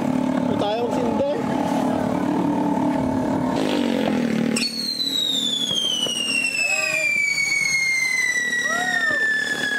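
Firecrackers and fireworks going off on New Year's Eve in the Philippines, a loud dense crackle, then rising whistling rockets that trail off, with people talking over the noise.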